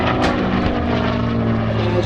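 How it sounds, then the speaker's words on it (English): A Hawker Fury Mk.II propeller aircraft roars loudly overhead while rolling at an airshow, a steady, dense engine drone with strong low harmonics, close and dominant throughout. "As you see Paul rolling the airplane"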